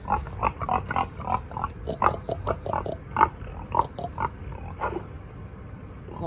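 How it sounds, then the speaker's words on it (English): Pigs on a farm beside a lake grunt, oink and snort in a steady run of close, rhythmic calls, with several animals overlapping and no talk. "We have some pigs right next to the lake that are on a farm next to the lake. You can hear them probably."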